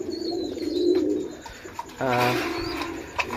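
Pigeons coo softly in a breeding loft in Bangladesh, with a low rolling coo rising clearly near the middle amid some fainter bird calls and background rustle.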